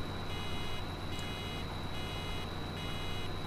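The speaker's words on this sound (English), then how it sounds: "I really hate that beeping sound." A baler warning in Farming Simulator 2013 beeps in steady regular pulses over the constant drone of farm machinery, moderately loud and without any voices.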